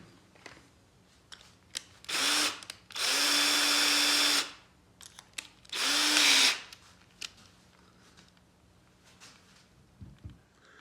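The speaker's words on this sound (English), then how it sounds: "So that's the first thing we're going to do, is try to create a little countersink." Power drill boring a countersink into a wooden chair leg: several loud bursts of whining motor noise, short then longer, separated by quiet pauses with faint handling clicks.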